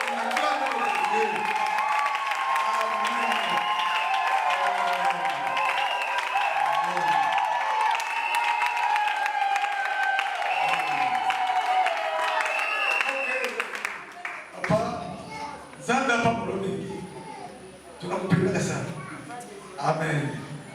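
A church congregation applauds in acclamation, dense steady clapping mixed with singing and voices for the first stretch, then breaking into scattered claps, shouts and speech.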